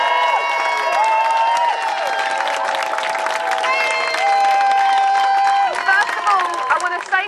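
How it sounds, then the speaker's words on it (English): A crowd at a McDonald's strike rally applauds and cheers for one of the striking workers, steady clapping and whoops filling the space loudly throughout, with voices mixed into the din. "the warmest, the most affectionate support and applause to Shen, one of the striking workers."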